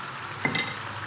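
Chicken frying in a pan, a steady close sizzle with a brief stirring scrape in the middle.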